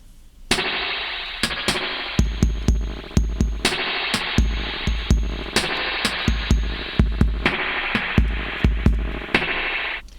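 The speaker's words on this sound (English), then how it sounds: "Last in the chain is a spring reverb." Sharp drum hits in a steady pattern, each one trailing into a splashy, metallic spring reverb wash, last in an Octatrack effect chain after filter and delay, that fills the gaps between beats.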